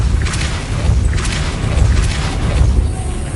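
Depulso spell blasts in Hogwarts Legacy, a run of loud booming, crashing bursts over a continuous low rumble, several impacts landing in quick succession.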